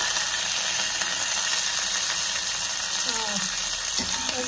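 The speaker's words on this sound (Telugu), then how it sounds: "దాంట్లో ఆవాలు, మినపప్పు, శనగపప్పు వేసుకున్నాము. అవి ఫ్రై అవనివ్వాలి కొంచెం గోల్డెన్ కలర్ వచ్చేలాగా." Mustard seeds, urad dal and chana dal fry in hot oil, giving a dense, steady crackling sizzle close by, with a few faint scraping sounds near the end.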